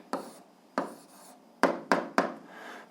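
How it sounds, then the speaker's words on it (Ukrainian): Five separate scratchy strokes of a pen or marker on a writing surface while an algebra answer is written out, close and fairly quiet, with short pauses between strokes and no talking. "Записуємо відповідь"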